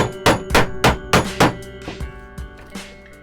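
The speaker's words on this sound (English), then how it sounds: "All we need to then do is turn the chisel at each point and then just start going straight down like this to clean up the very edges." A wood chisel struck into pine on a scrap-wood hall seat project, giving five or six close, sharp knocks in quick rhythm, then a few softer, fading taps.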